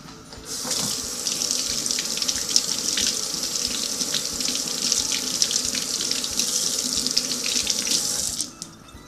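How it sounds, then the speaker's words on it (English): Water runs steadily from a tap as vegetables are rinsed under it, a continuous splashing gush for about eight seconds that starts and stops abruptly, with no talking. "We're going to rinse these off because they were laying in the dirt."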